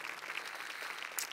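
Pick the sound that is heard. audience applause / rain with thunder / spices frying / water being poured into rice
audience applause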